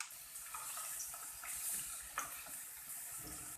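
Paneer, about a quarter kilo, sizzles while frying in ghee for a paneer green peas masala: a faint, steady hiss and crackle with occasional soft pops and stirring taps, no voices.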